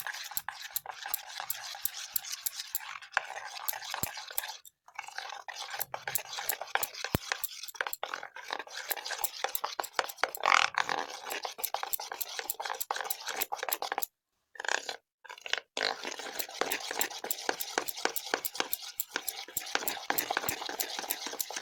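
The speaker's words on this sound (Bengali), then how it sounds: "তারপর ইনোটা এই ব্যাটারের সাথে ভালো করে মিশিয়ে নেব।" Eno is stirred into biscuit cake batter with quick rapid scraping and tapping of a utensil in a bowl, steady and close, broken by a few brief pauses.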